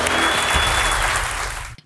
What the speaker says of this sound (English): Can we just give a huge round of applause to these two?